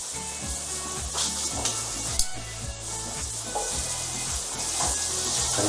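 A spatula scrapes and stirs pork with smoked paprika and cayenne pepper in a hot pan, rhythmic strokes over a steady sizzle, close and moderately quiet.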